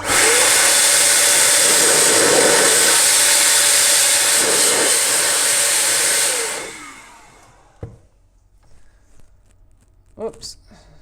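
Dust is blown out of a Princess 300 typewriter during a repair with a steady, loud rushing blast of air for about six seconds. It then cuts out and leaves a few faint clicks and handling knocks.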